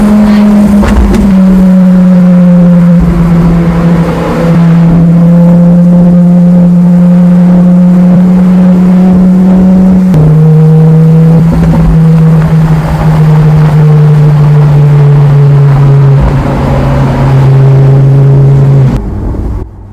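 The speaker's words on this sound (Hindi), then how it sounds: "ये आगे जो गाड़ियां जा रही हैं पोर्शे और मर्सिडीज हैं।" A steady, loud engine drone with slowly falling pitch carries on without a break, as Porsche and Mercedes sports cars drive past at speed on a track, heard close up throughout.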